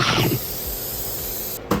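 A short, close hiss of an oil spray into an air fryer, then a brief second burst after a pause.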